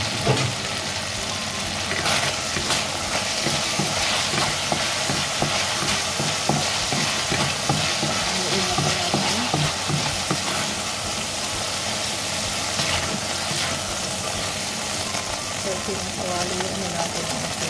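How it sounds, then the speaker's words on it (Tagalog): Garlic sautéing in a wok during a stir fry of zucchini with pork, giving a steady continuous sizzle with stirring clatter throughout, with faint voices in the background. "pinakawali na natin ang ating bawang."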